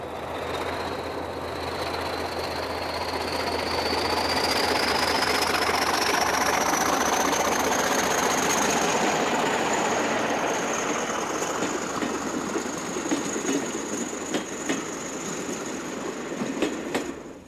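Passenger train pulling slowly out of a station in Portugal, a steady loud engine drone with a rising whine as it gradually gathers speed, light wheel clatter building toward the end.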